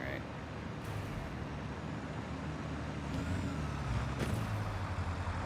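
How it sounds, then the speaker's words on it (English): A truck in Satisfactory rumbles steadily as it drives off, a low engine drone holding throughout with brief hissing bursts over the top, moderately loud and close. "Drive, truck."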